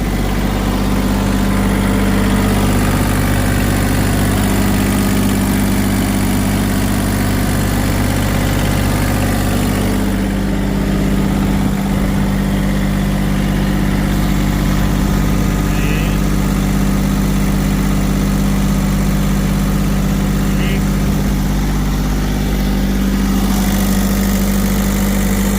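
The Isuzu 3KB1 diesel engine in an Airman welding generator runs at a steady idle close by, a loud constant low hum with a rhythmic throb and no talk over it.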